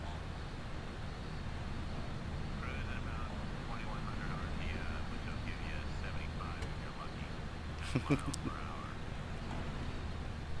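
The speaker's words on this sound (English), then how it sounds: "she's not exactly a quick aircraft" Propeller aircraft engine droning steadily in flight in Microsoft Flight Simulator X, a low continuous hum under someone talking.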